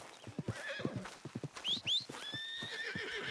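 A horse in Red Dead Redemption 2 gives a short neigh and whinny over steady clip-clop hoofbeats. The sound is fairly faint, and no one speaks.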